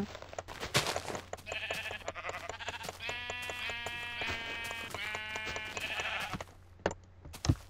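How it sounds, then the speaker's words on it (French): Repeated sheep bleats in a video game, several in a row with brief gaps, from a sheep stuck in foliage, mixed with clicks and knocks of game sound effects, fairly loud and close. "Un mouton coincé dans le feuillage."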